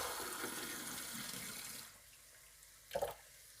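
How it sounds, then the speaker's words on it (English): Water pours into a pot for beef pilau, a quiet continuous splashing stream that stops partway through, followed by a brief clink or drip. "I'm going to add in 4 cups of water."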